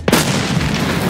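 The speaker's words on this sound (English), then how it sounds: "I'm gonna throw a grenade, don't be alarmed." A grenade explodes in the Escape from Tarkov shooter game, a single loud, close boom with a sharp onset whose rumbling blast decays across the rest of the moment.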